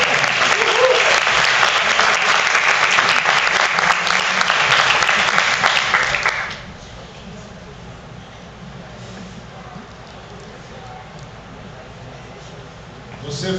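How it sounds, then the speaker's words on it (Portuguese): Loud, full audience applause during a church sermon, a dense wash of clapping that cuts off abruptly midway, leaving a quiet room tone. "Uma salva de palmas"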